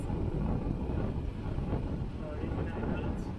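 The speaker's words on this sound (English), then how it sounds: "Winds are coming in from the south-southeast." Steady, heavy, gusting wind on Lake Ontario, aboard a Catalina Capri 26 sailboat, buffets the microphone in a constant low roar, with no clear breaks or other distinct sounds.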